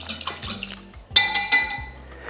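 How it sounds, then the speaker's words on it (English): A whisk stirs yeast and sugar into warm water in a bowl, producing quick light metallic clinks and scrapes in uneven bursts, close and fairly loud for about two seconds. "And then we're going to whisk this."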